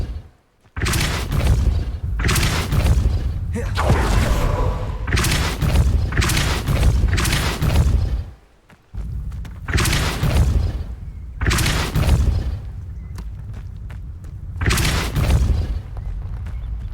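Repeated booming magical spell impacts from the Depulso banishing charm in the video game Hogwarts Legacy, a series of loud blasts with crashing debris, evenly spaced with brief pauses between.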